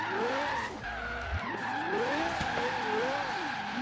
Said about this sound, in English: It drifts nicely actually, I gotta say, very easy to control.